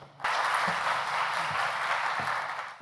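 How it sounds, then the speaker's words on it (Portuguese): An audience gives welcoming applause for a librarian about to present on EndNote, a burst of steady clapping that starts abruptly, holds for a couple of seconds and fades slightly at the end. "Vamos dar o nosso aplauso de boas-vindas à nossa querida colega"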